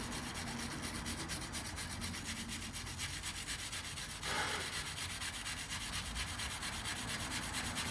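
Wire brush scrubbing rust from a steel wheel hub, a steady coarse scraping rub that runs continuously, close and fairly loud, with a brief harsher burst midway and no voices.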